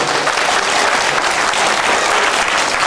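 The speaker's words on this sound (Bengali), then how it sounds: "আমরা সকলেই জোরে করে একটি করতালি দিতে পারি।" An audience at a district gathering in Natore applauds as a minister takes the stage, a dense, even wash of many hands clapping throughout with no pauses.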